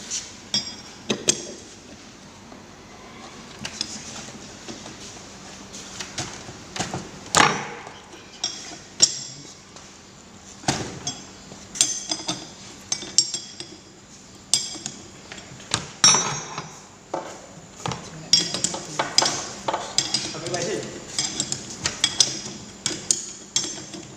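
Metal clinks and taps from a 22 mm ring spanner working loose the high-pressure hose bolt on a hydraulic rack-and-pinion power steering system, scattered sharp knocks and clicks over about twenty-four seconds with no talking.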